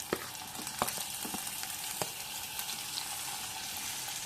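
Tomatoes dropped into hot oil with dried red chillies give a soft, steady sizzle with a few faint scattered clicks, quiet and close.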